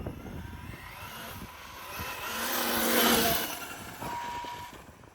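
A Losi 5T brushless RC truck with an 8S LiPo and a Castle 2028 800kv motor makes a flyby, its high motor whine rising as it approaches, peaking close by, then fading as it moves off.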